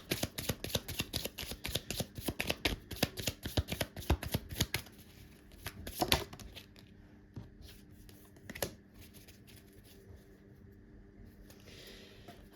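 Tarot cards are shuffled in quick, crisp riffles for about six seconds, then the rustling thins to occasional soft slides and taps of the deck, close and fairly quiet.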